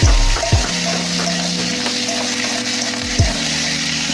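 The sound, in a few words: egg and potatoes frying in a pan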